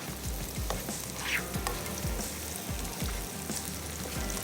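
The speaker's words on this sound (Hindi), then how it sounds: "चॉप प्याज हमने इसमें शामिल की और साथ ही हमने इसमें ऐड कर देना है लहसुन" Chopped onion sizzling in a hot pan for shakshuka, a loud continuous frying hiss and crackle with soft stirring scrapes throughout, close and steady with no talking.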